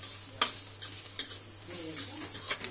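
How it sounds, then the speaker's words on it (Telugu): Carrot fry stir-fried in a pan: soft sizzling underlies a few sharp spoon clinks and scrapes against the metal pan at irregular intervals, close by and alone. "క్యారెట్ ఫ్రై ఇది వేగిపోయింది ఫ్రెండ్స్"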